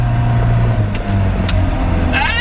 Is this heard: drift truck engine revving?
yes